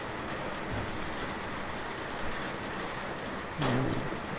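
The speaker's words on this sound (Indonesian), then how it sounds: "Di tempat saya ambil video ini sedang hujan ya" Steady rain falls outdoors as a continuous, even hiss of moderate loudness, with a brief low murmur near the end and no voices.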